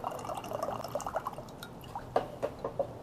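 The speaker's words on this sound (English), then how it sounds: "Let's pour some into our sacred pitcher here." Tea poured into a pitcher at a small indoor teatime, a faint, uneven trickle and splash of liquid with a few sharper drips toward the end.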